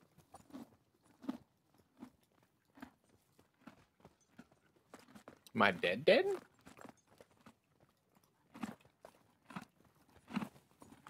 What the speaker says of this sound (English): That horse just be munching